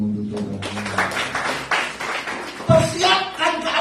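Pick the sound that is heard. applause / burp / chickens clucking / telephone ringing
applause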